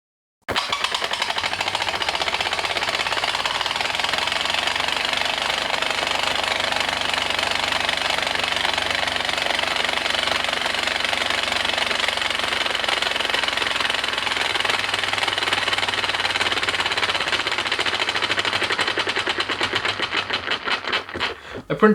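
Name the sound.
3D printed compressed air piston engine running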